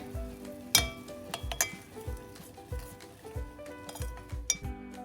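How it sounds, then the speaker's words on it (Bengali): Butter being stirred and melted in a pan for garlic butter prawns, with a utensil tapping and scraping the pan in repeated clinks and knocks over a faint background hum. "বাটারটাকে সুন্দর করে অল্প আছে হালকা নেড়ে চেড়ে ও মেল্ট করে নিছে"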